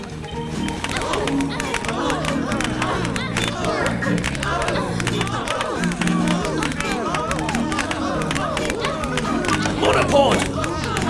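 Crowd of townsfolk clapping in the video game We Happy Few, a dense steady patter of many hands under game music and voices throughout.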